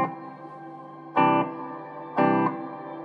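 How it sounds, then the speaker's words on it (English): Two sustained, effect-heavy guitar tones through a DIY modular reverb swell in and hang, each leaving a washy, echoing tail between the louder hits. "This is the reverb"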